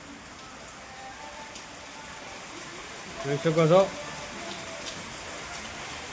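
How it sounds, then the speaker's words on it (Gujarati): Steady rain pours down in a dense, even hiss that grows a little heavier, while a person talks briefly over it partway through. "વરસાદ પણ થોડોક વધારે આવવા માંડ્યું છે"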